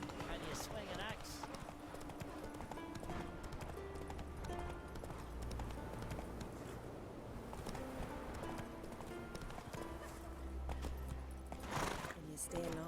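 Roach the horse gallops in The Witcher, fast drumming hoofbeats running continuously with a whinny-like snort, while characters talk over the steady hoof rhythm.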